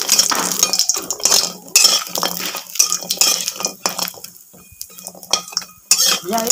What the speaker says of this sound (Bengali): এখন এই যে কুমড়া বড়িগুলো ভেজে নিচ্ছি, একটু কড়া করে কুমড়া বড়িগুলো ভেজে নেব